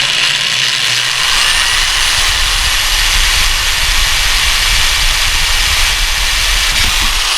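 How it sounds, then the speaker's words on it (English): A power drill boring a small pilot hole into the metal casing of a mini guitar amp, a steady, loud whirring grind that runs unbroken for several seconds with no voices. "Now I'm drilling the smaller hole first so that the bigger bit doesn't dance around"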